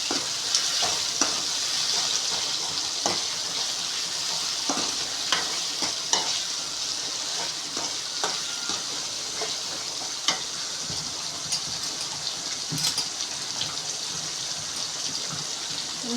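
Salted onions sautéing in a pan for a Tamil dried fish curry, a steady bright sizzle broken by frequent clicks and scrapes of a spoon stirring, close and continuous with no talking.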